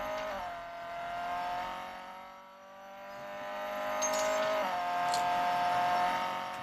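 A Mercedes A45 AMG races in the mobile game Real Racing 3, its engine droning and climbing in pitch through two gear changes, steady and fairly loud, with a faint tire squeal near the end.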